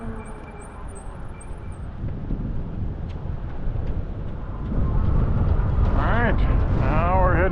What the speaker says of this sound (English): Back into the wind.